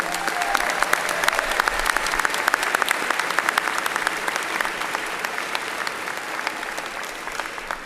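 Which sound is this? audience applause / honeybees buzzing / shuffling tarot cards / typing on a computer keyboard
audience applause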